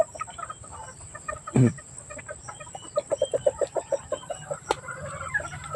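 Backyard chickens cluck in a steady run of short, close calls, with one louder squawk near the start and faint background noise.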